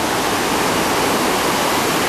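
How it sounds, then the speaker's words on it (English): Roadside waterfall on the road to Hana in lush, tropical Hawaii after rain: a loud, steady, close rushing roar of falling water that stays constant throughout, with no voices. "This is the 3rd waterfall we've come by on the road to Hina."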